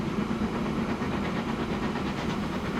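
Train rolling along a busy UK mainline in Transport Fever 2, a continuous steady rumble with a soft hiss and faint rhythmic clatter, even in level throughout and without talk.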